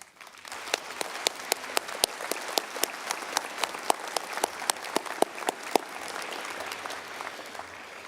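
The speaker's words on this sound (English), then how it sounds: "Please join me in taking a moment to acknowledge our instructors with a round of applause." Audience applause for police academy instructors at a graduation ceremony, a steady wash of clapping across the whole stretch with sharp individual claps standing out, gradually thinning toward the end.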